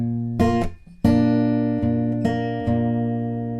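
Open strings of a guitar played in a fingerpicked pattern, several ringing notes plucked in a steady rhythm with sustained overlapping tones, close and clear with no talking.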